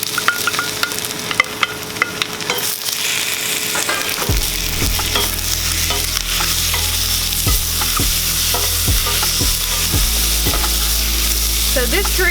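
Eggplant tossed into sizzling curry paste in a hot pan, a loud steady fry with repeated close stirring scrapes and clacks throughout, no talking.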